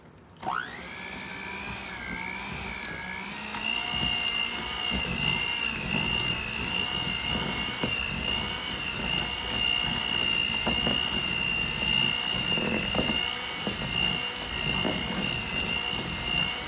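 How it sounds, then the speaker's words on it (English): A kitchen blender whirs steadily while blending strawberry cheesecake filling until smooth, starting abruptly with a rising motor pitch and then holding a loud, continuous high whine with slight fluctuations throughout. "take my blender, and we're gonna mix it until it's smooth"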